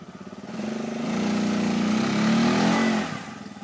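An enduro motorcycle engine revs up close, its pitch climbing and holding in a loud, buzzing drone before dropping off abruptly.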